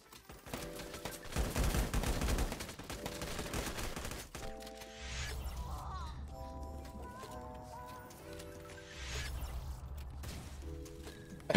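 Gunfire during a LifeAfter match, a quick cluster of loud shots early on and then scattered fainter bursts under steady game music and other effects.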